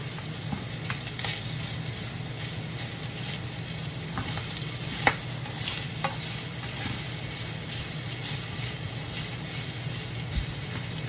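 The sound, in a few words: onions being stirred and sautéed for homemade pizza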